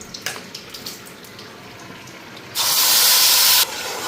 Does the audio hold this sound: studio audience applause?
no